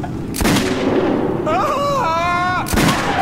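Loud gunfire bursts from the video game Metro 2033 Redux, two heavy blasts framing a stretch of tonal shouting or creature cries, all close and dense.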